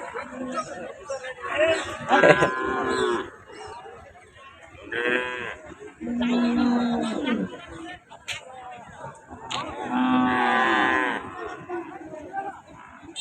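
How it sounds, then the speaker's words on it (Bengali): Young calves and small bulls low at a busy cattle market, several drawn-out moos rising and falling in turn at close range over steady crowd chatter and voices. "এই জায়গাটা পুরো ছোট বাচ্চা গরু যাকে বলা হয় ছোট ছোট সার ষাঁড়গুলো"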